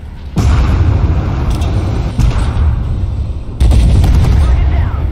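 Sustained gunfire from a player's weapon in a squad-based military shooter, loud and dense with bursts of shots that cut in sharply at the start and again near the end, with voice chatter underneath.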